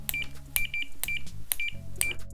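A multimeter continuity test gives repeated short electronic beeps, about five quick bursts each with a steady tone, sounding close and clear against a low hum.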